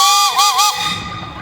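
A scale model Baker steam engine sounds its whistle in a single loud, steady tone lasting under a second, wavering briefly in pitch before cutting off and leaving low background noise.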